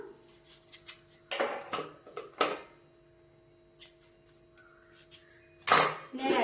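Coconut, curry leaves and green chillies dropped into a mixer jar, a few light clinks and knocks of the jar against a quiet background with a steady faint hum.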